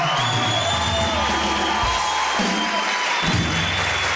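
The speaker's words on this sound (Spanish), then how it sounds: "Un aplauso para todos los abogados." Studio audience applauding and cheering on a television talk show, a dense, loud wash of clapping and whoops that stays steady for a few seconds.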